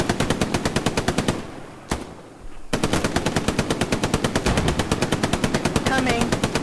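Rapid machine-gun bursts in a World War II combat game, loud and close, with a rhythmic stream of shots, a brief pause with a single crack, then sustained automatic fire resuming.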